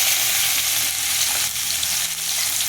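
Garlic frying with mustard seeds in hot oil for a fenugreek curry tempering, a loud continuous sizzle with crackling spatters throughout.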